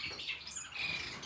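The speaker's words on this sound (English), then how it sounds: "So I've got 3 cages here of society finches." Society finches in cages give thin, high squawking calls, with a few short faint notes close by and no talking.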